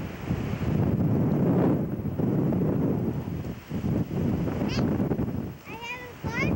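Heavy wind buffets the microphone in a constant loud rumble at a campsite in Chain O'Lakes State Park, with people talking faintly underneath and a brief high squeal near the end.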